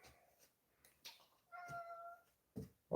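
A cat gives one faint, drawn-out meow in an otherwise quiet room, surrounded by a few soft scattered knocks and rustles.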